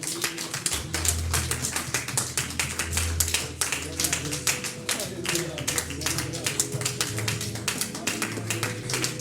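A church congregation claps rhythmically and steadily through a worship service, dense repeated hand taps alongside music and voices in the background.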